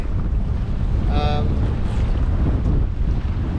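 Wind roars steadily across the microphone aboard a sailboat, a loud, continuous rushing with low buffeting, while a brief whistling tone from rigging or sail rises midway, with no speech.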